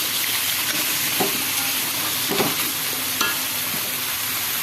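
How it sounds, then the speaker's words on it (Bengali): Meat and onion frying in a pan, a loud close sizzle broken by three sharp scraping stirs of a utensil against the metal, with no talking. "মানে এটাই ভালো করে ভেজে নিই"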